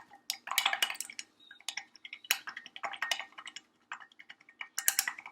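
Squirts of soap mixed into water in a cup, a busy run of quick clinks and taps as a utensil stirs against the cup, coming in uneven bursts with short pauses.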